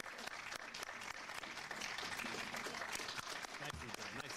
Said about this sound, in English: So if you would just mind giving these wonderful panelists a real round of applause.